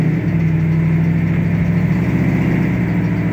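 A 1967 Chevrolet Camaro with an LSX V8 engine drives along a road, its deep steady engine drone holding a constant low rumble throughout, loud and close with no talk over it.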